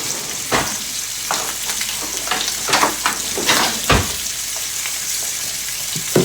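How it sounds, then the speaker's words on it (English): Pork tenderloin seasoned with cracked pepper and kosher salt sears in a hot buttered pan, a loud steady sizzle broken by crackling bursts and the scrape and clatter of the meat being shifted, with no talk. "Nice, hot sear."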